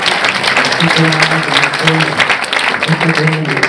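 An audience at a civic political gathering in Como applauds in a steady, dense wash of clapping, with voices and talking mixed in over it.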